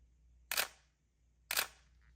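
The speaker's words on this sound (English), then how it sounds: "And there's that classic 1D shutter sound." Two crisp Canon 1D Mark III shutter clicks about a second apart, each a sharp mechanical snap with a short tail, in an otherwise quiet room.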